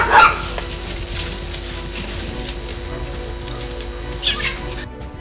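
A pack of stray street dogs bark and yip excitedly, several sharp barks layered close together over continuous yelping, with no talking.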